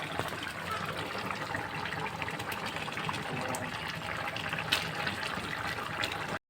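Thick soybean curry poured from a hot cooking pan, giving a steady, close wet gushing and sloshing sound that runs continuously for several seconds before cutting off abruptly.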